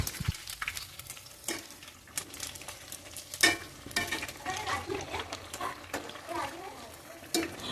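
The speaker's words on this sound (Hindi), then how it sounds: "इसको थोड़ा सा गोल्डन कलर आने तक फ्राई करना।" Sabudana vada frying in hot oil, sizzling steadily throughout with occasional clicks and scrapes as the pieces are stirred and turned, close up.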